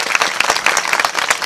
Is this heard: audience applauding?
yes